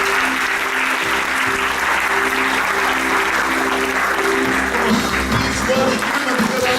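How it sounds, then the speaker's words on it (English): A church congregation applauds loudly and steadily, close and dense, with organ or keyboard chords and voices sounding underneath. "Come on, put your hands together and let's thank Him."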